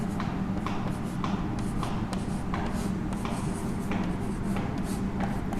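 A marker or chalk writes numbers on a board during a primary-school maths lesson: quiet, steady scratching strokes with short pauses, close by and alone.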